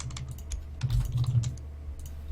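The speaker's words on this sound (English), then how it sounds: "The sound of typing took over the stream." Someone types on a computer keyboard during a livestream. Close, rapid clicking keystrokes come in quick irregular runs, with no talking.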